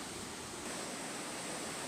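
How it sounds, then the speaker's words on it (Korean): Large waterfall pouring down nonstop among mountains and trees, a dense, even roar of falling water close by, with no voices. "거대한 물줄기는 이를 허용하지 않으려는 듯 쉼없이 쏟아져 내린다"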